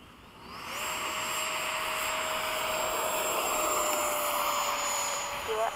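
An F/A-18 jet on its takeoff roll, engine roar swelling quickly and then holding as a loud, steady broadband rush with a high whine threaded through it, close and continuous.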